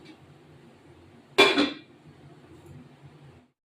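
A lid clatters down onto a metal pot of simmering rohu fish curry with drumstick stems, one sharp close clink with a brief ringing tail over a low kitchen hum.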